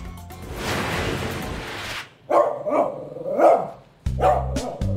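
A Shih Tzu barking in a home in Bulacan: a burst of rapid, sharp barks, then a pause and several separate yapping barks, close and fairly loud, with no talk over them.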